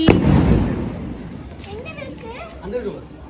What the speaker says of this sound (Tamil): பட்டாசு கொளுத்துதே ஹாப்பி தீபாவளி